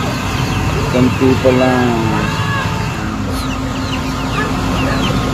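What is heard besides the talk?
chickens clucking on a farm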